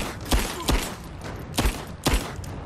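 Gunshots in Rise of the Tomb Raider, a PS4 action game, crack out in a loose, irregular volley of four sharp reports over steady noisy battle ambience.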